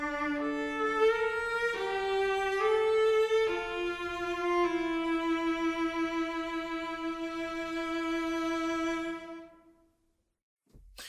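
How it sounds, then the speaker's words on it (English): A single sustained note from a solo orchestral sample library, rich in harmonics and held for about nine seconds, then released into a soft hall-reverb tail that fades to near silence. "the release tail kind of sounds like this"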